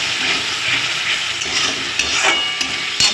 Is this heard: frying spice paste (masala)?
yes